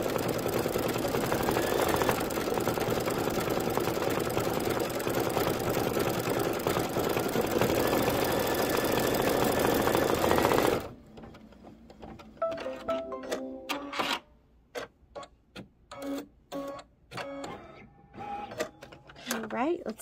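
An embroidery machine hums and chatters loudly and continuously while stitching a wing and fill, then stops abruptly halfway through, leaving quieter handling clicks and brief talking.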